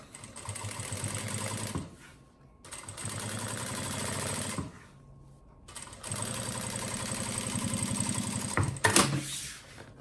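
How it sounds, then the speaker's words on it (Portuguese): Sewing machine topstitching through fabric with a zipper on a baby diaper and wipes pouch, running in three long stitching bursts separated by short pauses, loud and close with a rhythmic mechanical whir. "E nós vamos fazer aqui uma costura de pesponto."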